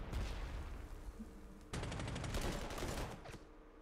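Artillery fire in the Panzer Corps 2 strategy game, Spanish Civil War setting: a dense fusillade of overlapping booms and cracks rolling steadily, swelling louder midway and continuing for a few seconds, with no talk.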